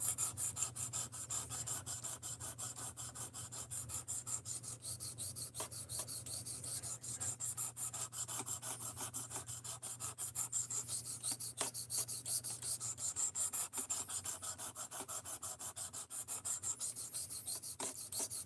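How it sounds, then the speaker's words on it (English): A knife edge, recently damaged, being sharpened with steady rapid rubbing strokes against a sharpening surface, a continuous quiet rasping scrape with a low hum in the background and no talking. "I'm sharpening it back up before we find something else to get into."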